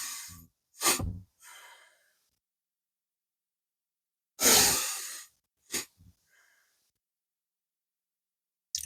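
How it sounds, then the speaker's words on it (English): A person breathes through the nose in a double-inhale, exhale pattern: two quick sharp sniffs, then a longer forceful nasal exhale. The pattern repeats with more close, loud, breathy bursts separated by silence. "That's the double inhale, exhale through the nose and out the nose"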